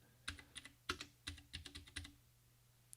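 Keystrokes clack on a Vortex Race 3 mechanical keyboard, about a dozen sharp, close taps in an uneven typing rhythm, with a faint low hum underneath.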